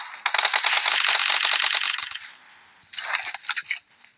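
Rapid automatic gunfire bursts in a video game, a long dense rattle of shots followed after a short pause by a second shorter burst, loud and close with no talk over it.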